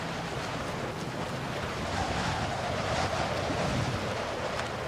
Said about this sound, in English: Just listen to that wind.